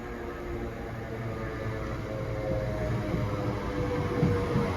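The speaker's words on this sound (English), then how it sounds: "Incoming is the next West Midlands Railway service, which is going to take me to" A West Midlands Railway train pulls into a short station platform, a steady broadband rumble and hiss that swells slightly as it nears, with no voices.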